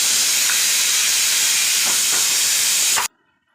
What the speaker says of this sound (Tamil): இந்த குக்கர் மட்டும் சூன்னா கூட கூப்பிட்டுக்கிட்டே இருக்குவான்